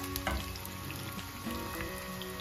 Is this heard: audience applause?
no